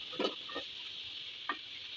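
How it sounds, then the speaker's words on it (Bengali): Onions and jackfruit seeds stirred in a frying pan, giving a few faint scraping clicks over a steady low sizzle, with no voices. "এখন এটা একটু নাড়াচাড়া করে নেব 1-2 মিনিট"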